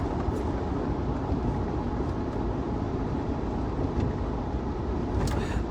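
A car drives along a road, heard from inside as a steady low rumble of engine and road noise. Occasional faint hiss rises above it, with no talking.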